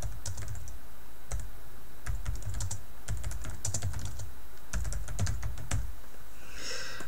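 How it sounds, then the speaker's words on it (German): Typing on a computer keyboard: a steady run of close, crisp key clicks in irregular bursts, with brief pauses, heard alone with no talking. "Wenn ich jetzt mal irgendwas schreibe"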